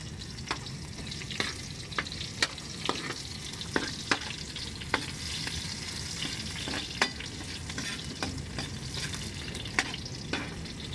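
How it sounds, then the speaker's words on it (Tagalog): Garlic and onion fry in oil in a pan for adobong puso ng saging, a continuous sizzle punctuated by regular clinks and scrapes of a utensil stirring against the pan. "Ilagay na natin ang bawang. Isunod na natin ang sibuyas."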